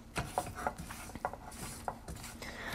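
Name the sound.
spatula stirring raspberries with sugar and brandy in a pan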